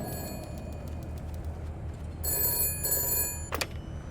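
A payphone ringing in a video game, a bell-like electronic ring coming in two bursts over a low background hum of street ambience, moderately close.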